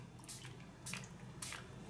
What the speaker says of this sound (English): So here what I'm going to do is just spray a bit of water on it